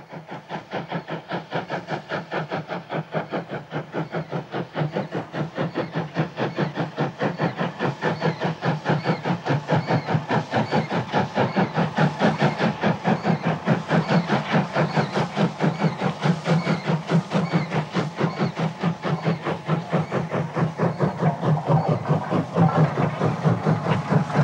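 Vintage North British Railway 0-6-0 steam locomotive Maud, built 1891, working hard with a steady rapid chuffing beat over continuous hiss and rail clatter, loud and sustained throughout with no voices.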